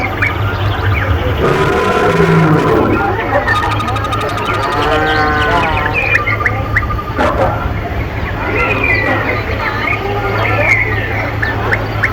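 Recorded sheep bleats and other livestock calls play as sound effects at an exhibition animal display, several wavering bleats over a loud constant hum, with people talking.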